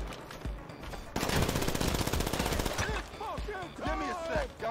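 Rapid automatic gunfire from a Drug Wars mission in GTA Online fires in a loud sustained burst, with shorter bursts and scattered shots around it and a voice talking over the end.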